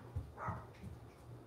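A dog gives a few short, faint barks and yips indoors, spaced quickly across a brief moment with no speech.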